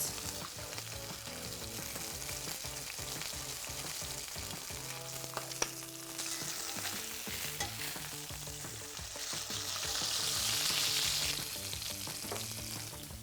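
Steak searing in hot oil with rosemary and garlic pieces, a steady loud sizzle and crackle running throughout, swelling slightly near the end, with no voices.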